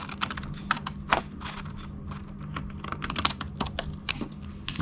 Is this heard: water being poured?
no